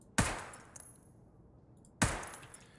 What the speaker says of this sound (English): you can just one tap with this gun, and you're pretty much just firing sniper rifle shells